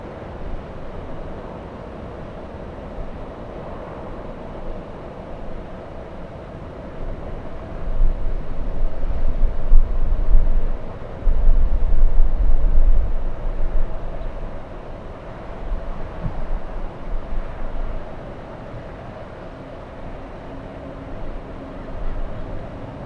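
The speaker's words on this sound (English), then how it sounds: "that is a very cool plane" A Lufthansa Boeing 747 passes at LAX with a broad, low engine roar that swells to a peak midway and then fades gradually into steady background rumble.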